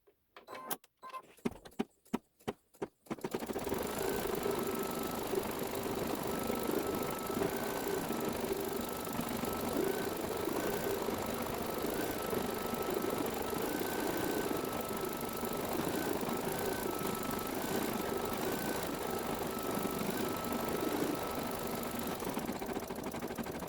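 An embroidery sewing machine stitches green carrot tops onto a SweetPea quilt block. A few clicks come first, then a steady, fast, continuous mechanical whir runs close and loud to the end.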